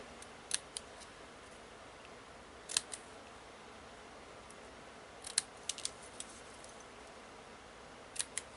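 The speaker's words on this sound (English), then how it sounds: "So I'm going to cut this down so that we have ribbon ends." Scissors snipping ribbon ends for a handmade Christmas card: a few sharp, close clicks of the blades, spaced out in small pairs and clusters against a quiet room background.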